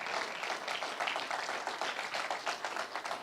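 A church congregation applauding, a dense, even patter of many hands clapping at moderate distance, sustained without a break.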